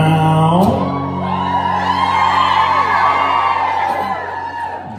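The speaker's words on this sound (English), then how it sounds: "Oh, I can hear that crowd now." A concert crowd in Bristol at a country show whoops and cheers loudly over sustained musical tones, building into a continuous roar of shouting voices.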